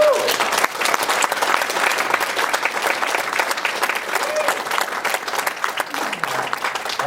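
An audience claps in sustained applause at a public gathering opposing uranium mining in Cree territory, a dense crackle of many hands that stays loud and steady throughout, with a few brief tonal voice sounds mixed in.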